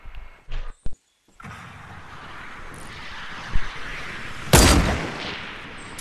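Gunfire in the video game Fortnite: after a few short clipped sounds and a brief silence, a steady ambient bed leads to a sharp shot near the middle and a louder, sustained burst of fire later.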